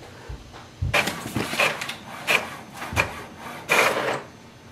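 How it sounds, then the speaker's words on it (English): An HP OfficeJet Pro 9125e printer prints a document, giving a series of quiet mechanical bursts of rasping paper-feed and carriage noise in an uneven rhythm, heard close up with no talking. "So let's print a document."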